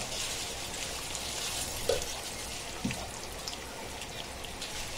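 Onions frying in hot ghee, a steady close crackling sizzle that stays even throughout with a couple of faint knocks, no voices.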